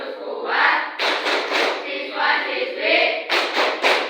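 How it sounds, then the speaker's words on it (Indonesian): A classroom of students claps together in a rhythmic spirit clap, bursts of hand claps in a patterned beat mixed with group chanting voices, fairly loud and close. "Tepuk semangat"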